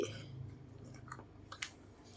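A Bangkaew mix dog eats its food, making soft, faint chewing and crunching sounds close by, with a few sharper bites near the end.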